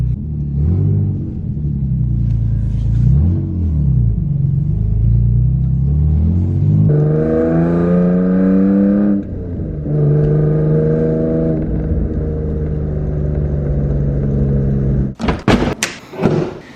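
A loud, booming engine rumble drones inside a Nissan 350Z with a broken exhaust flexi pipe, rising and falling in pitch as it revs, with a few sharp knocks near the end.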